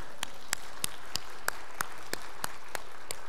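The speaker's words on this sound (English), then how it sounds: "I heard someone start to clap." A congregation at a Sunday worship service claps in slow, evenly spaced single claps, about ten sharp, moderately distant hits in a steady rhythm over quiet room tone.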